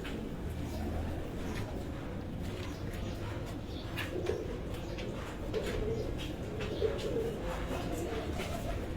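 Sialkoti breed pigeons coo softly in a low, murmuring background that runs the whole time, faint and steady, with occasional light clicks and a little human voice in the mix.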